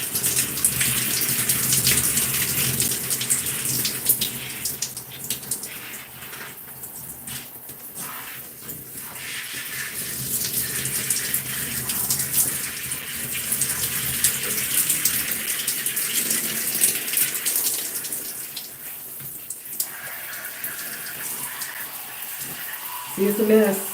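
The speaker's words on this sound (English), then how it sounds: "rinsing off the tools" Water runs from a tap while tools are rinsed, a continuous splashing hiss with shifting flow and clatter, lasting throughout as someone talks over it at times.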